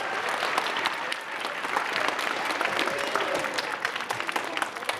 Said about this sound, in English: Round of applause for Mrs. Radazzo.